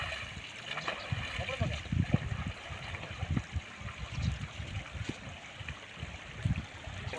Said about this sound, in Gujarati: બનાસ નદી હાલ આખોલથી કુપટ તરફ જઈ રહી છે